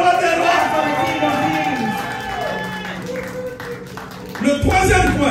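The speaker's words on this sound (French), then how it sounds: "Acclamons pour le roi des rois." A church congregation cheers and claps together, a dense wash of applause and voices with music-like tones running under it, loud throughout and swelling again near the end.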